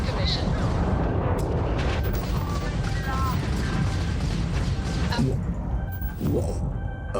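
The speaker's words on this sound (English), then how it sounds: "Why are the UC shooting at me?" Gunfire from hostile ships aimed at the player during a space battle in the Starfield video game, a dense continuous rumble of blasts and booms close and loud, with a voice talking over it.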